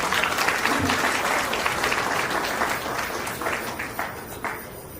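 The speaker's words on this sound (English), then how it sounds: "A round of applause." A wedding reception audience applauds in a steady, dense burst of hand clapping that carries on for several seconds, with faint voices underneath.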